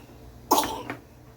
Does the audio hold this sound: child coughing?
yes